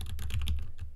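Fast typing on a computer keyboard, a steady rapid patter of close key clicks with no voices.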